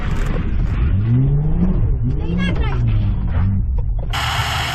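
A Suzuki Vitara 2.7 V6 off-road engine revs in mud and rises in pitch, climbing and falling several times at close range with a steady rumbling underneath.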